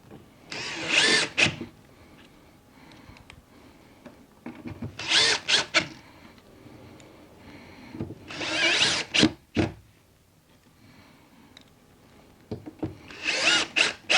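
A power drill drives screws to reattach a standoff bracket to an RV slide room, four separate loud whirring bursts of about a second each, spaced by quiet pauses, close up.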